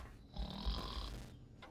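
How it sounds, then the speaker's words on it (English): A robot snores in Fallout New Vegas, a faint, nasal rasping drone that swells and fades over about a second and a half, heard alone without talk. "Who is the robot snoring?"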